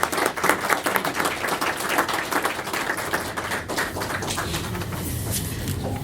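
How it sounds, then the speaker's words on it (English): Audience applause at a school teacher-appreciation breakfast, a steady dense wash of many hands clapping that continues evenly for several seconds with no one talking over it. "So let's give those people a round of applause."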